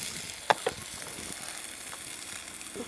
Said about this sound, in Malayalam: അതൊന്ന് അങ്ങോട്ടേക്ക് വഴറ്റി ചൂടാകുമ്പോഴത്തേക്കും